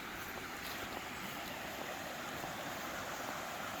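A creek in Devil's Den State Park runs steadily near a trailside campsite, a faint continuous wash of flowing water with a light breezy hiss and no voices.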